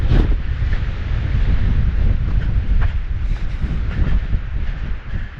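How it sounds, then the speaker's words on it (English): Strong, steady wind roars and buffets the microphone on a mountain trail near Piute Pass, a continuous low rumble with gusts rising and falling throughout and no one speaking. "Windy, windy, windy."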